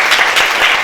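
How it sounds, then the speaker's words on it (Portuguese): Dense, loud applause fills a lecture hall as an audience at a talk claps together in a brief continuous burst. "Vamos aplaudir."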